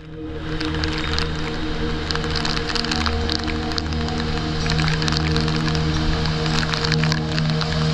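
Side waterfalls pouring into a narrow corridor of Gamchi canyon in Switzerland, a steady dense rush of falling water with a hollow, echoing hum underneath, close and constant throughout.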